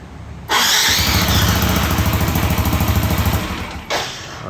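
A Yamaha Tricity 155 water-cooled scooter engine starts up abruptly and idles loud and close with a steady, slightly pulsing putter, then revs briefly near the end.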